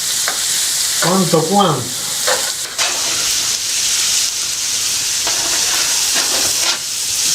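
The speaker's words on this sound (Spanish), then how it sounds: "y la zanahoria, fritamos todo junto, pero un poquito nomás" Carrot and onion frying together in a pan give a steady, close sizzling hiss that runs the whole time, with a brief voice near the start.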